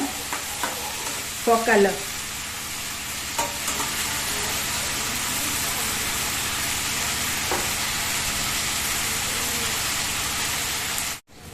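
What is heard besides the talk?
stir frying arbi with basil leaves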